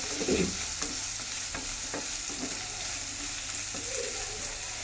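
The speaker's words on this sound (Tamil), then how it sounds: "சால்ட்டு போட்டு நல்லா மிக்ஸ் பண்ணுவோம்" Onion and capsicum stir-fried with salt in a pan, a soft steady sizzle broken by intermittent spatula scrapes and taps, close but fairly quiet.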